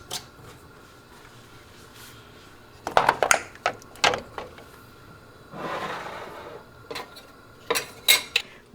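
Metal clatter as a pressure cooker lid is closed and secured over a jarring setup for pickled chiles in vinegar: sharp clinks and scrapes in bursts, then a brief rushing hiss, close and fairly loud, no talk.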